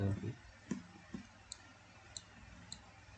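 A few crisp keyboard key clicks from a Ctrl C copy shortcut in CorelDraw, spaced and isolated taps at close range in a quiet room.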